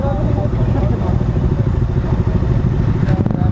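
A group of motorcycles sets off on a morning ride, a dense mass of engine rumble and throttle blips up close, with someone talking over it.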